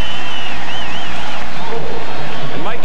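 A stadium crowd roars at a college football game between Oregon State and LSU, a dense, loud sustained wash of cheering and clapping beneath a commentator's voice.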